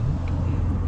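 A Shelby GT350 Mustang's engine drones loud and close during a hard drive, a steady low roar with road rumble and no voices.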